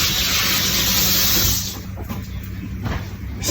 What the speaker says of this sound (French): Encore une fois, je me rince les mains d'abord.